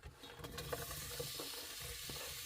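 Chopped scallions hit about two spoonfuls of oil in a preheated pan while jjamppong-style soft tofu stew is being made. The sizzle is soft and steady, with a few faint clicks and knocks from the pan.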